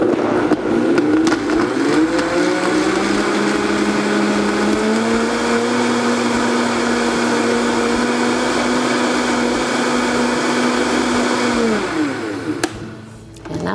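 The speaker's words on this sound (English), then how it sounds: "And any blender will do, you just really want to mix the components." A blender runs continuously on a drink mixture, loud and close, with a steady motor whine that rises a little at the start, holds for about ten seconds and then winds down, with no talking.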